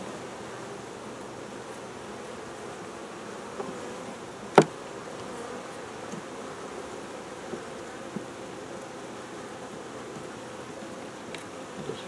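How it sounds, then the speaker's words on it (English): Steady, dense buzzing of many honey bees on a hive frame close by in cold weather, a continuous hum with one sharp click partway through. "We're going to take this, and it's got some bees on it."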